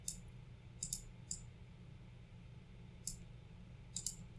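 Computer mouse clicks during drag-and-drop work in Scratch, a few faint sharp clicks in small clusters spaced across a quiet room hum, without speech.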